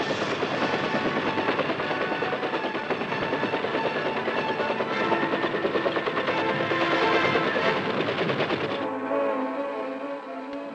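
Military helicopters used in assault missions during the Vietnam War, heard as a loud, steady rotor roar with a dense rhythmic chop that holds for about nine seconds, then drops to a quieter hum.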